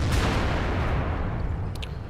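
A single booming cannon shot from a tank in a tank game, opening the clip loud and then fading into a long low rumble with a faint clink near the end.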